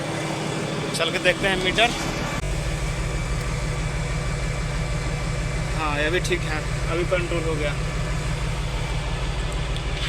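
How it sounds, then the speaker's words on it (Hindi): A machine running steadily after being restarted with fresh water after overheating, a constant low engine drone and hum throughout while people talk over it. "अभी पानी डाल के स्टार्ट किए हैं मशीन"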